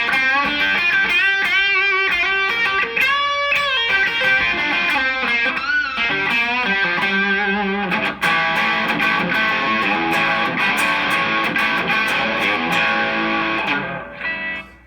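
A distorted electric guitar on a 2015 Gibson Les Paul Traditional's bridge pickup plays a bright, biting riff with sustained overdriven chords, loud and continuous before fading at the end.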